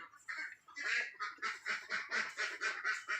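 Ducks on a laying-duck farm quack in a rapid, rhythmic series of loud, close calls, one after another with no talk over them.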